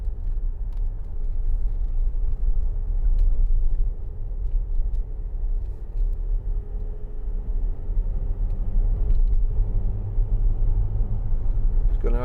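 A 2011 Land Rover Discovery 4 with the 3.0 SDV6 diesel drives along, giving a steady low engine and road rumble heard from inside the cabin, with no talking.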